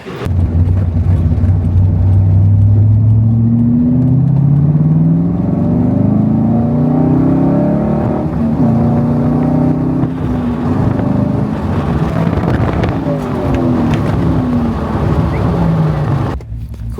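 Chevrolet Corvette C5 on a short test drive after new toe arms, side skirts and an alignment, its engine droning loud and close with rising and falling pitch as it accelerates and shifts.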